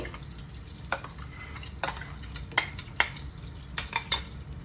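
Thalappakatti biryani masala paste sautéed in oil and butter over low to medium flame, a spoon scraping and knocking the pan in several spaced, sharp strokes above a soft continuous sizzle, nearby and without talk.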